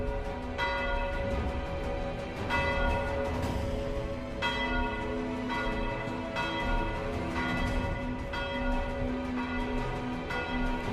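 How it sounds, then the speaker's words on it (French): Chapel church bells ring the Angelus, with resonant strikes about once a second in a steady sequence, each leaving a long ringing decay that overlaps the next. "les cloches du premier Angélus se mirent à sonner, à la chapelle du désespoir qui venait d'être achevée."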